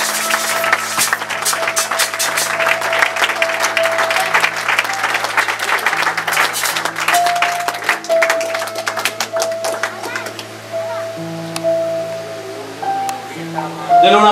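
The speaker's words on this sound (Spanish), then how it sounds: "Ahora alguien denle un aplauso fuerte al Señor." Church congregation applauding loudly at a miracle service, a dense sustained wash of clapping for the whole stretch with music playing underneath.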